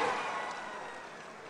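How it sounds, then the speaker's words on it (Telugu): Applause from a crowd of women at the Indiramma Illu housing scheme launch: a dense, steady wash of clapping that fades slightly over a second and a half. "మా ఆడబిడ్డలు పెద్ద ఎత్తున చప్పట్లు కొట్టి మద్దతు పలకండి"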